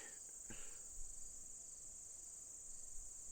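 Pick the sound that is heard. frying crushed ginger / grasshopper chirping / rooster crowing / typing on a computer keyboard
grasshopper chirping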